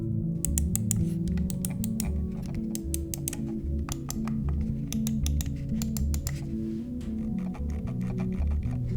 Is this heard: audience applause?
no